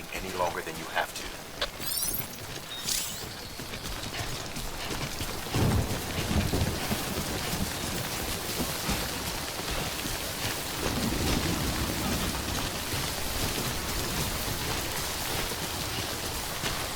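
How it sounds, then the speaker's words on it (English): Timefall rain in the video game Death Stranding pours down steadily and densely, with rolls of thunder rumbling underneath and a voice talking over the downpour. "Don't stay out in the rain any longer than you have to."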